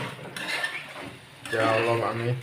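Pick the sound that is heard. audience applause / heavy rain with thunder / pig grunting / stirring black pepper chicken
stirring black pepper chicken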